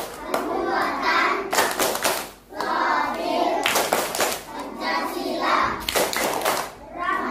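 Schoolchildren join in a rhythmic group clap chant, bursts of sharp hand claps alternating with chanted voices in a steady pattern, loud and close in a classroom.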